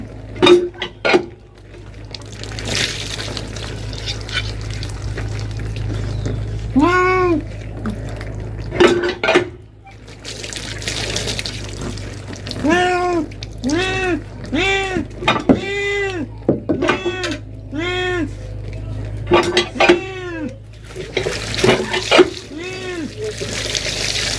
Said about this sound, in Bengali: মাছটাকে ধোয়া হয়ে গেল আর দেখি হচ্ছে এই দুটো তিনটে বাসন কুসন আছে